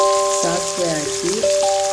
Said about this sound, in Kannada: ಎಣ್ಣೆ ಹಾಕಿ ಸಾಸಿವೆ ಹಾಕಿ